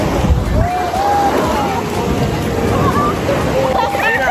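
Rough sea waves at Camp Laiya beach in San Juan, Batangas, sloshing and surging close by with wind buffeting the microphone, while people talk and exclaim over the water noise.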